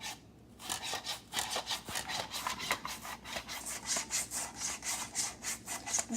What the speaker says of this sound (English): Then I'm just going to keep chopping.